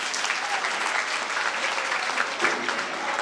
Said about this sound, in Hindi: उनके लिए जोरदार ताली बजा दीजिए